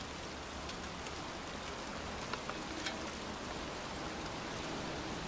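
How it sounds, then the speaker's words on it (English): Steady, heavy rain pouring down in a video game, a dense wash of noise with a few louder drops standing out. "It's cold. It's raining. I'm standing outside getting soaked."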